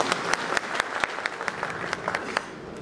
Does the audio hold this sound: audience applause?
yes